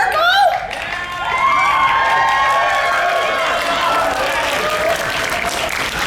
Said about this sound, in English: Those are pity claps.